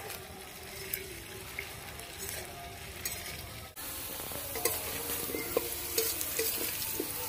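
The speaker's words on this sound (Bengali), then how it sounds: "আমার আলুগুলো লাল লাল করে ভাজা হয়ে গেছে, এবার তুলে দেবো।" Potatoes fry in hot oil with a continuous close sizzle, punctuated by light scraping and tapping as they are stirred, growing louder partway through.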